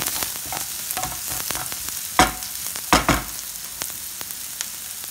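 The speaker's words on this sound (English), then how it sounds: "Let them fry too." Chopped onion frying in a pan gives a continuous close sizzle, with a few louder bursts of crackling and clatter partway through, and no voices.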